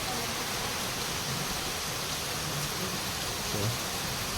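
Steady rain, the first rain of the season in rural Konkan, hisses softly and evenly as a faint, unbroken wash of sound with no clear individual drops.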